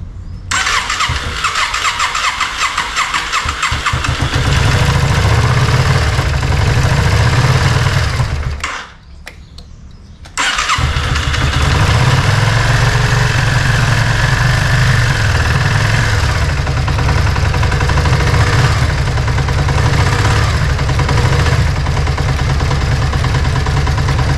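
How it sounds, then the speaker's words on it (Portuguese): A Yamaha Virago 535 motorcycle with a newly replaced fuel pump starts for the first time that day and settles into a loud, steady idle nearby, with a brief dip after about nine seconds before the engine note returns. "Agora vou ligar a moto para ver."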